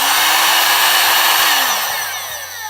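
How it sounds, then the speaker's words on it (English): Loud, steady rushing blast of a Parkside heat gun on its higher second setting, a close fan roar with a motor hum that dips slightly in pitch and level toward the end, heard alone. "Here's the heat gun itself."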